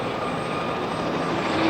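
Royal Navy Gazelle helicopters drone steadily overhead in a flying display, a continuous engine and rotor roar holding at a constant distance with no speech.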